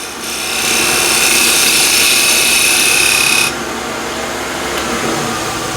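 A spindle gouge cuts walnut spinning on a wood lathe, giving a steady, close scraping hiss that holds for about three seconds and then drops to a quieter, duller rubbing.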